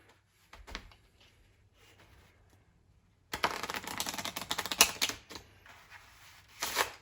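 A pack of playing cards is shuffled during a kids' magic trick, with a few faint flicks first, then a loud, crisp riffling burst that ripples on and trails into softer card sounds.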